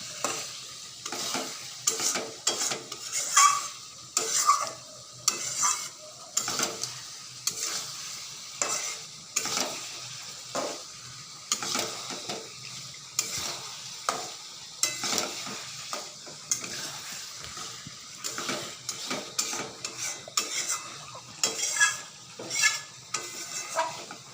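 Mutton is sautéed and stirred in a pan, with regular scraping strokes of a spoon over a light sizzle, close and steady, with occasional metallic clinks.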